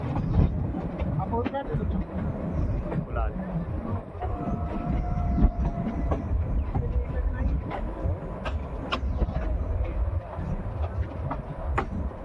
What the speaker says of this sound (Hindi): तो गैस ट्रेन पहुंच रही है फुलाद रेलवे स्टेशन पर